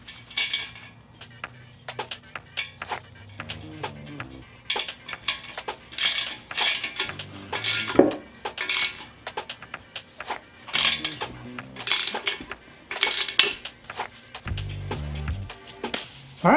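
Two small threaded plugs wrapped in Teflon tape being screwed into an engine block during a rebuild, heard as close metallic ratcheting and clinking tool sounds in irregular bursts, with faint low rumbles between them.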